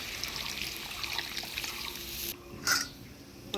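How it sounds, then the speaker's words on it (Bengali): Small amount of water poured into mustard paste in a cooking pan, a soft close trickle with a brief splash near the end over steady kitchen background noise. "এবারে অল্প জল দিয়ে দিব।"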